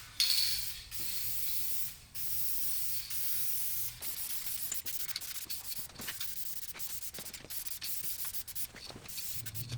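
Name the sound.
spraying adhesion promoter onto bare plastic car side skirts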